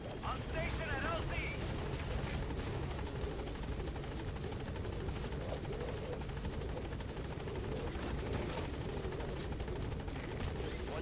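Support helicopter arriving at the landing zone in Metal Gear Solid 5, a steady whirring rotor drone with a constant chopping pulse that holds throughout, with brief game sounds on top.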